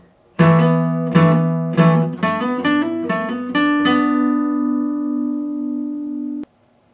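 Electric guitar plays a song's intro slowly: a string of plucked notes, several struck in quick succession, climbing and ending on a held note that rings before being cut off, loud and alone.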